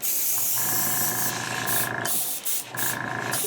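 A high velocity airbrush sprays flat black Tamiya paint in a steady close hiss with a pitched tone that cuts in and out as the trigger is worked.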